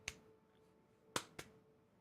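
Cupped hands clapping, three sharp separate pops, one early and two close together later, each crisp and near against a quiet background.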